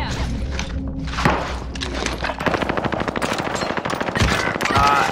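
Rapid automatic gunfire in Call of Duty Warzone, loud and close, with sustained bursts of fast shots and heavy thuds running almost unbroken through the stretch, a brief lull early on before the firing picks up again.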